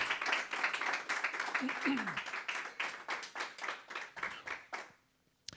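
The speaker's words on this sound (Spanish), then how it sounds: "Give the Lord vamos a darle un aplauso en fe al Señor." A church congregation claps in a steady, rhythmic beat for several seconds during a service, with voices mixed in, before the clapping stops.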